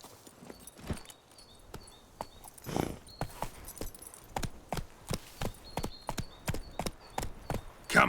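Horse hooves clip-clop at a steady walking rhythm in The Witcher 3, with clear, evenly spaced hoof strikes over a soft outdoor ambience.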